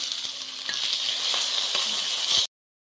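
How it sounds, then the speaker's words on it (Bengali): Gobindobhog rice frying in ghee in a wok, a steady bright sizzle with faint stirring scrapes, close and even, stopping abruptly into silence near the end. "এবার ঘিতে প্রথমে আমি চালটা ভেজে নিচ্ছি।"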